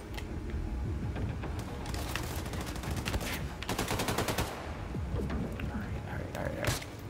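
Gunfire in the video game Wolfenstein II crackles in scattered rapid volleys under steady game noise and a voice talking.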